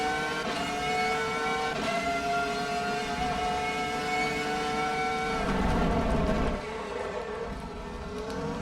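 A Ferrari F2004 Formula 1 car's engine screams in the Assetto Corsa EVO racing game, a loud sustained high-revving whine that shifts pitch and swells briefly before dropping off near the end.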